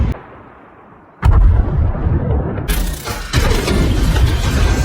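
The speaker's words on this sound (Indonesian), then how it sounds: "rentetan ledakan menara satelit pun terjadi" A sequence of loud explosions as a satellite tower blows up, sharp blasts giving way to sustained roaring and crackling debris, close and intense.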